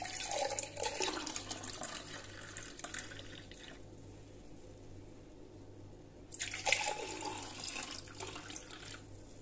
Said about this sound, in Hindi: और मैं इसमें डाल दूँगी जूस।